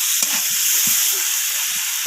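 Previously fried tomatoes are stirred and sautéed in a pan with a continuous loud sizzle and a few soft spoon scrapes beneath it.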